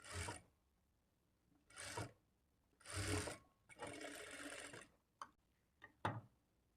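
A sewing machine stitching a lining blouse runs in short, quiet bursts of rapid whirring, separated by pauses and followed by a few brief ticks and taps.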